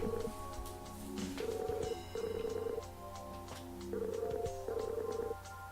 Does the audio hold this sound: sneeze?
no